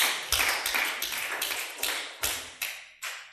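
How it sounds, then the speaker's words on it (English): Sharp, separate percussive taps ring out one after another in an open room, each decaying with a reverberant tail. They come in an uneven, sparse rhythm rather than a crowd's applause. "Please give her a round of applause"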